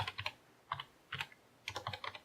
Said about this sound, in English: So you get very good at typing with one hand.